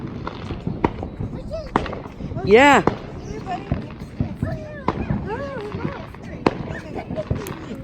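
Fourth of July fireworks going off close by: sharp crackling pops and bangs scattered throughout, with a rising whistling shriek near the middle, as people talk and call out over the blasts.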